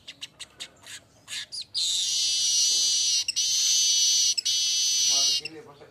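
Manyar weaver bird song with a burst of short separate chirps, then a long, loud, continuous buzzing trill broken by two brief gaps, close and clear, with a few softer calls at the end.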